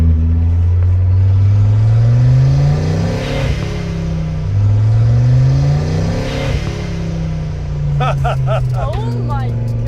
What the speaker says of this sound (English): You got turbo noises. Rev it up.